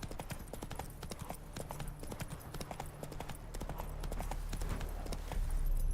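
Roach, Geralt's horse in The Witcher 3, trots with steady, evenly spaced hoof clops over a low rumbling background that swells slightly toward the end.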